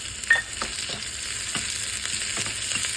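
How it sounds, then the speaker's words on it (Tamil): Chopped pirandai sizzles in hot oil in a small pan, a steady frying hiss broken by several sharp crackles and stirring scrapes, close and moderately loud with no voices. "நறுக்கி வச்ச பிரண்டையை நம்ம இதில் வதக்கிக்கலாம்."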